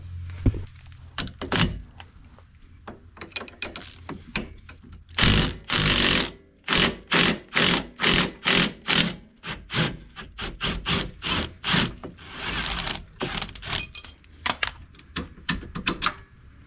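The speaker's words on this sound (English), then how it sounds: "We're going to put a wrench on this nut, take it out, and then do the same up top." A ratchet wrench backs an 18 mm nut off the lower trailing arm of a Dodge Charger Scat Pack, giving close, loud bursts of rapid clicking ratchet strokes separated by short pauses and occasional metallic clunks.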